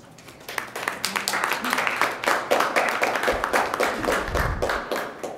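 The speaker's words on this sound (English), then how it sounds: "I always recommend that you don't applaud before the talk" An audience claps before a talk on the search for extraterrestrial intelligence, the applause swelling into a steady, moderately loud patter of many hands that continues through the whole stretch.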